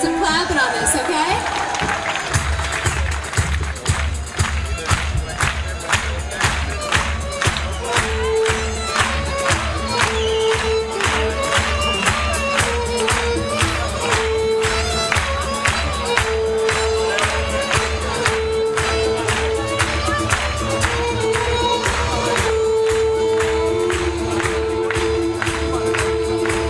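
A live concert audience at Lycabettus, Athens, 1998, clapping along in a steady, even beat to the music, sustained and loud throughout.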